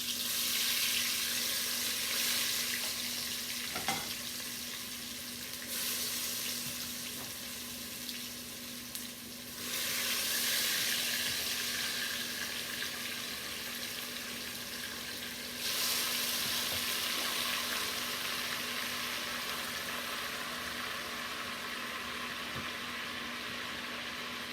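Jamaican oxtails browning in a pot, a continuous close sizzle with hissing that rises and falls in intensity over about twenty-five seconds, with occasional stirring bumps.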